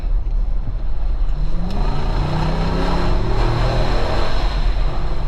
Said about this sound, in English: It sounds like a proper sports car, you know, like an old muscle car or something like that.